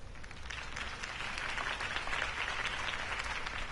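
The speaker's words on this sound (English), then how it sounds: "If only Mr. Wayne, my campaign's largest backer, could have heard that applause" A crowd applauds steadily in a video game, dense clapping filling the space without a break, heard at a moderate distance.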